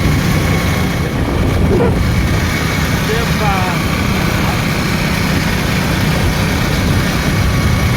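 Motorbike ridden in the early morning, with a steady engine drone and wind rumble running throughout, close and loud, with talk over it.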